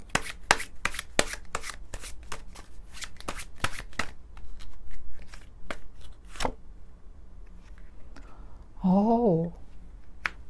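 Tarot cards are shuffled in a run of sharp, quick close riffles and snaps for several seconds, then fade out, followed by a brief voice.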